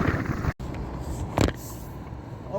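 A car drives along a snowy road during a southern Ontario blizzard, its engine and tyre rumble steady and close under roaring wind, with a brief swell midway.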